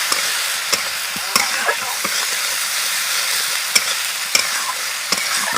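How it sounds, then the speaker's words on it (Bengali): Ginger paste being stirred in a pan with tomato, a steady loud sizzle and hiss broken by regular scraping clicks of the spoon. "আদা বাটা আমি নাড়াচাড়া করে নেব।"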